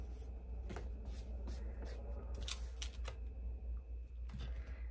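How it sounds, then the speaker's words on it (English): Scissors cutting fabric along a drawn line for a quilt block, giving soft, close, repeated snipping and crunching strokes in a steady rhythm over a low background hum, with no talking. "Again, I'm cutting on that line that we drew."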